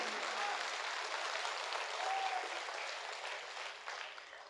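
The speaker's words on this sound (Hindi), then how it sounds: "मैं चाहता हूं पूरा सदन पीछे तक हाथ खड़े करके एक बार जोरदार तालियां बजाए" Applause from an audience at a humorous poetry gathering, a dense, steady wash of many clapping hands that holds across the whole stretch and fades slightly at the end, with no talk over it.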